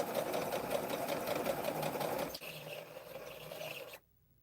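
A sewing machine stitches steadily at a quilting table, a fast rhythmic whir that eases off partway through and then stops abruptly near the end.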